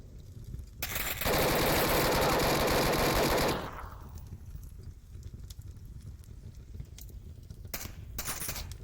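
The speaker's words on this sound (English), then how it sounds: "Mr. Jacob with a nice shot there with the AK-12, downing and confirming Ostentatious" Rapid automatic fire from an AK-12 rifle in the VR shooter Onward rings out in a loud, dense burst lasting about two seconds, followed by quieter scattered game sounds and a few faint distant shots.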